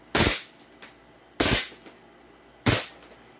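Three sharp, loud cracks from an airsoft pistol sound close up, each fired alone at even gaps of just over a second with quiet between them.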